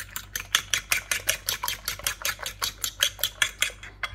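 Eggs seasoned with cilantro and lime are beaten in a bowl for scrambled eggs, a quick, regular clicking whisk of utensil against the dish, close and steady with no talk.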